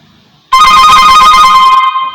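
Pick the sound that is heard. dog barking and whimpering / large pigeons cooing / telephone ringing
telephone ringing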